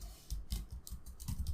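Quick, light keystrokes tap out a password on a computer keyboard, a short irregular run of soft clicks heard close and quietly.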